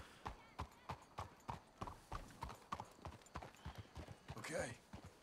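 Horse hooves clip-clopping in the video game Red Dead Redemption 2, a steady close rhythm of distinct hoofbeats, with a brief whinny-like sound near the end.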